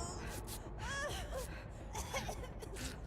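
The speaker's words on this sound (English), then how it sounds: "He's breathing really loudly." Heavy, loud breathing from a character in the Dead by Daylight video game, with ragged gasping breaths and whimpers over a dark, noisy game ambience.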